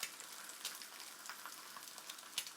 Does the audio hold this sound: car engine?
no